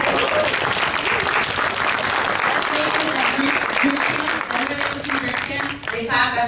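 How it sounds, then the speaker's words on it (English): Audience applause fills a convention panel room, sustained dense clapping with scattered cheers and voices from the crowd throughout. "Can we get a round of applause?"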